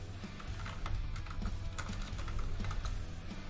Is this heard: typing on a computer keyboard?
yes